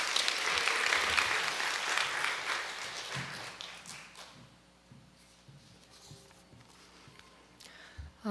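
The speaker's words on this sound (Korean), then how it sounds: "나올 때 격려의 박수로 부탁드리겠습니다." Korean church congregation at a Sunday worship service applauding in encouragement as a member comes forward to testify; loud, full clapping that gradually thins out, leaving quiet room noise, light taps and footsteps.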